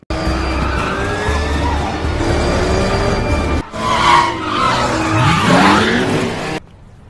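A car skids with squealing tires after hitting nails on the road, then crashes and rolls over. Loud engine and tire noise drops into a heavy, chaotic tumble of scraping and impacts before cutting to silence.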